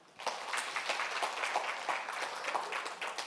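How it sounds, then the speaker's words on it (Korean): A small audience at a Korean sterilization seminar for operating-room nurses gives sparse, quiet applause, with scattered individual claps in an irregular patter for a few seconds. "근데 이렇게 박수가 적어본 적이 제가 처음이네"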